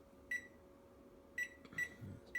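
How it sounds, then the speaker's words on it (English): A few short electronic beeps from a microwave oven over a steady low hum, with a faint clatter near the end. "So I'm going to put that in the microwave real quick"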